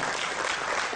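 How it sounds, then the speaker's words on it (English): A crowd claps continuously, a dense patter of applause heard at a moderate distance, steady throughout. "Can we give a round of applause for Arlen?"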